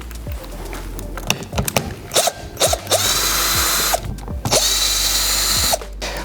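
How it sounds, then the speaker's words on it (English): A power drill driving out the cover screws on a JJ actuator while fitting a DPS kit, with short whirring bursts, ratcheting clicks and sustained spinning runs, loud and close. "And that's followed then by removing the cover screws."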